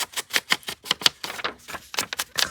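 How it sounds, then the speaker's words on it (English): An old mechanical typewriter clacks away in a quick, uneven run of crisp keystrokes, each strike sharp and close, with brief pauses between bursts. "If you have an old typewriter, you could type yourself up some."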